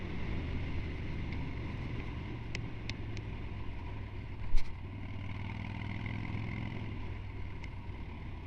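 A motorcycle engine fitted with an S&S Super E carburetor runs steadily at a moderate distance, with a continuous low rumble and wind rush and a brief louder burst of throttle partway through.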